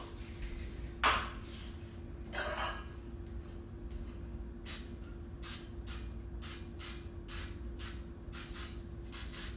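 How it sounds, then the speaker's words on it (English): Coconut oil cooking spray hisses into a muffin tin in short bursts, two longer sprays followed by a rapid series of quick spritzes, close and clear over a faint steady hum. "I am going to use a little bit of coconut oil spray,"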